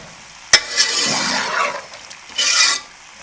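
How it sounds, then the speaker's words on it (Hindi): A utensil scrapes and stirs chicken and vegetables in a pot with a faint simmering sizzle, starting with a sharp clink and then two swishing strokes, close and moderately loud. "अब इसको अच्छे से मिक्स करेंगे।"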